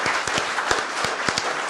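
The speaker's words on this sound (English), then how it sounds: "I think a round of applause for..." Members and guests at a museum fundraising gathering clap briefly, with a short burst of scattered, uneven hand claps from a modest audience.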